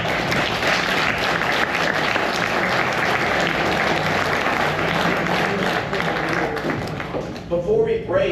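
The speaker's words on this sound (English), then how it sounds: "How about another round of applause?" Sustained audience applause fills a conference hall after a talk, dense and steady clapping throughout, thinning slightly near the end.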